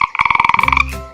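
A frog croaks in a pond, a fast rattling trill of about a dozen sharp pulses in under a second, loud and close, ending in a brief low tail.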